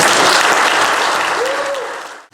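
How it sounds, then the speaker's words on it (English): A church congregation applauds veterans during a service, a dense burst of clapping that holds steady and then fades out quickly near the end. "let's give them a round of applause"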